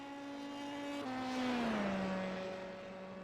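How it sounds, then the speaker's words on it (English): A race car in an iRacing sim at Lime Rock sweeps past, its engine note holding high then dropping in pitch as it passes, swelling in loudness and fading away. "Dylan Pettigrew, here he comes, trying to set a lap"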